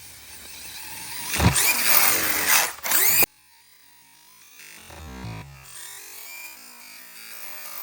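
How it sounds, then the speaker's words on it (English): An RC car's motor whines loudly at a launch ramp for a couple of seconds, then cuts off abruptly, leaving quieter outdoor sounds and a brief thump. "we're gonna launch some RC cars"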